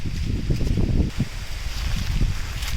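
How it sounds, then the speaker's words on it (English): Steady rustle of dry leaves stirred by wind in a forest near Manali, a continuous close crackling wash with gusty swells and low rumbling wind noise on the microphone. "hitting the dry leaves, crushing against each other."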